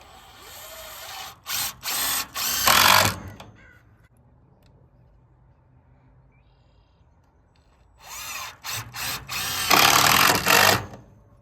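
A power drill drives long screws into wood while building up a rabbit pen: two close, loud bursts of stuttering whirring a few seconds long, separated by a quiet pause.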